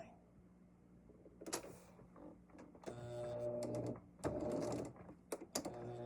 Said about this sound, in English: I'm sewing directly on the line.